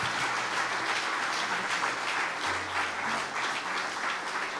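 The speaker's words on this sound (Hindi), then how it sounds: "जोरदार ताली प्रभु यीशु मसीह के लिए बजाते हुए" A church congregation applauds loudly for Jesus Christ, a dense, sustained clapping that holds steady throughout with faint voices underneath.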